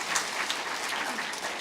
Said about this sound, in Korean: 그런 분들을 위해서 우리 박수 한번 하겠습니다